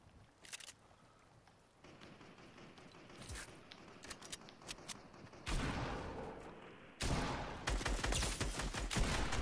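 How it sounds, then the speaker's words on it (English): Video-game gunfire from behind the player, with scattered single shots and short bursts that build into louder, denser volleys toward the end, sometimes distant and sometimes close. "Somebody's shooting behind us."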